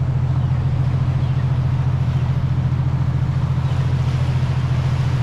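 Fishing boat engine running at speed, a loud, steady low drone with a regular throbbing pulse that holds constant throughout with no talk.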